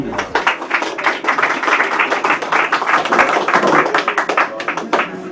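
A small audience in a Nice cellar at a slam poetry evening applauds steadily, a dense run of close hand claps lasting several seconds with no talk over it.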